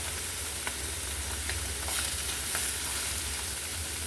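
Chicken sausages browning in a frying pan give a steady, even sizzle with occasional soft pops, close and continuous with no voices.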